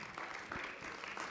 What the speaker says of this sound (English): Let's give Sandy one more round of applause.